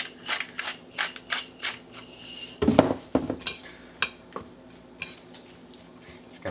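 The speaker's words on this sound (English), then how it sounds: "Give that a little stir." A spoon stirring coleslaw dressing of mayo and apple cider vinegar in a bowl, a steady series of close scraping, clinking strokes in a regular rhythm, with a louder clatter partway through.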